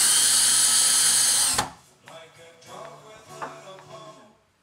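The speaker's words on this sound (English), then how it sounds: "use 3-inch drywall screws to attach the flanges to the wall" A power drill drives 3-inch drywall screws through a desk's metal flanges into a wall, whining loudly and steadily for over a second before it abruptly cuts off, leaving faint clicks and handling noise.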